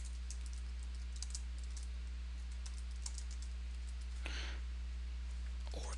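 Computer keyboard typing while entering spreadsheet data in Excel: quiet, rapid clusters of key clicks with short pauses, close-miked over a steady low hum, no talking.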